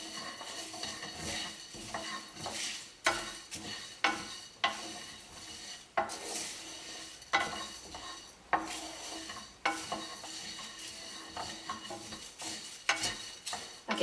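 Whole spices roasting for Sri Lankan curry powder, stirred in a pan over low heat with a close, steady scraping and rustling, punctuated by regular clinks of the spoon against the pan.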